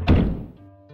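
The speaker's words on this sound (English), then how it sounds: "glorious save room noise" Save room sound in Resident Evil Remastered, one sharp thunk-like hit that decays into a low sustained tone, with a faint second tone near the end and no talk.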